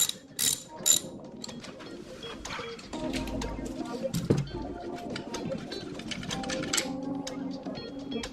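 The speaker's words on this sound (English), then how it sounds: "we're going to take this main bolt out in the centre here" On a Ninebot Max G30 electric scooter, a ratchet clicks in quick bursts while the main stem bolt is loosened and removed, with mechanical rattles and short metallic knocks close up.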